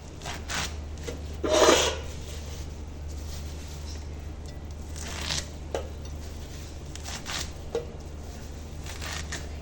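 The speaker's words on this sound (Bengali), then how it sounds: "পাতা ধুয়ে নিয়ে চলে এসেছি এবার খালি কুচে নেবো" Washed pumpkin leaves being chopped on a board, soft scraping and rubbing strokes with a few louder chops, fairly close, no talking.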